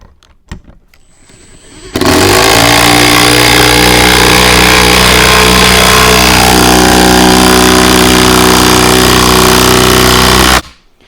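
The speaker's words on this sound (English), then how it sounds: "And that really loud sound you hear as this is going is the hammering." An impact drill hammers while driving a bolt, starting abruptly and holding a loud, steady, rattling roar for about nine seconds before cutting off, preceded by a few faint clicks.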